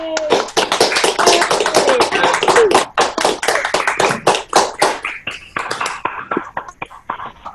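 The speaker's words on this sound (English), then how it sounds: "if everyone wants to unmute their microphone and give a huge round of applause to these 5, 6 levels" Online applause from a sixth-grade audience with unmuted microphones, many overlapping claps and taps filling the whole stretch, loud and close, thinning into scattered claps toward the end, with faint voices mixed in.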